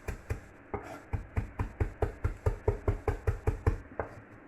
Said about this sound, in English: So not too much chopping.